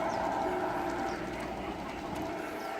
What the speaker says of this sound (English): Oh, there's that little logging train.